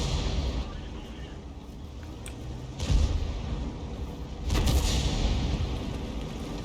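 Artillery rounds fire in a video game as dull, heavy booms, two stronger blasts standing out over a constant low rumble of battlefield noise.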